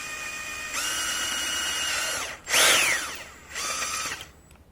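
A power drill bores a hole in the rear fender of a Royal Enfield Continental GT 650 cafe racer. The motor whines in three separate bursts, and the middle burst rises and falls sharply in pitch.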